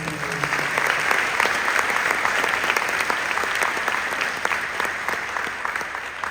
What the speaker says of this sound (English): Can we get another round of applause for those incredible stories?